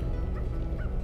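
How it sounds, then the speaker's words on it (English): Bird honking in Sly 2: Band of Thieves, two short nasal honks over a dense low game backdrop. "A bird."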